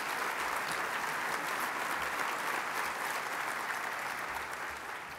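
Sustained, even applause fills a breakfast awards event, a thick continuous roar of many hands clapping at close range that holds loud and steady, easing only slightly at the end.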